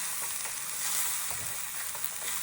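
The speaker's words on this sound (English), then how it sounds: "we're going to toast those spices, working through the onion until we have sort of a dry, spicy onion paste at the bottom of the pan" Spices and onion toasting and frying in a pan into a dry paste for chicken tikka masala, a steady close sizzle with faint stirring scrapes throughout.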